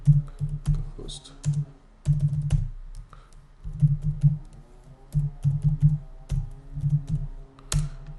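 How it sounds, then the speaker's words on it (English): Keystrokes on a PC computer keyboard tap out in quick bursts of close, crisp clicks separated by short pauses, with faint low background hum. "And space, and we type miniclip.com."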